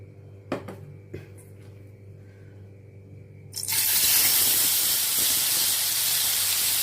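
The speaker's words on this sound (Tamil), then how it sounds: "அந்த இறாலை எடுத்து நம்ம போட்டுக்கலாம் எண்ணெயில் போட்டு லைட்டாக வறுத்து எடுத்துக்கணும்" Marinated prawns go into hot oil: a few quiet clatters over a low hum, then a sudden loud, sustained sizzling hiss that stays steady to the end.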